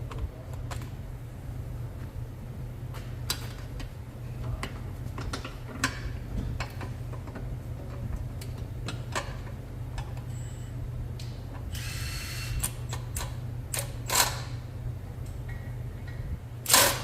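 A ratchet on two 12-inch extensions and a 13mm swivel works a bolt loose during front axle and actuator repair on a Ford Explorer, giving scattered clicks and metallic ticks over a steady low hum, with no talk.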